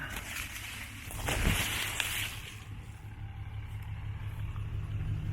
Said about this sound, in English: I can hear the truck.